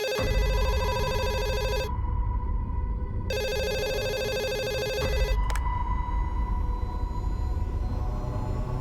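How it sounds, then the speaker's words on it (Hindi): A telephone rings loudly in two long electronic trilling bursts separated by a pause, then cuts off and leaves a low room hum. "दिन रात फोन बजते रहता है उसका"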